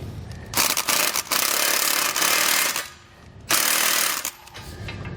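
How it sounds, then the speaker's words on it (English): A nylon lock nut being tightened with a 24mm socket and wrench on a 2018 Jeep JL Wrangler plow mount, heard as loud, close, harsh ratcheting bursts in two long runs separated by a brief pause. "We'll take a 24mm socket and wrench and tighten it into place."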